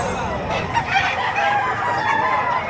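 Roosters crowing at a chicken livestock auction market in Padre Garcia, Batangas, several overlapping calls rising and falling close by over a dense, noisy crowd background.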